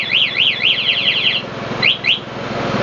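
A two-way alarm on a Honda TMX125 motorcycle sounds loudly, a rapid warbling siren sweeping up and down for over a second, then two short chirps after a pause, with no talking.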